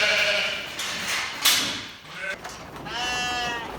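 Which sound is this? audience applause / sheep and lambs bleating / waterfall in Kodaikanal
sheep and lambs bleating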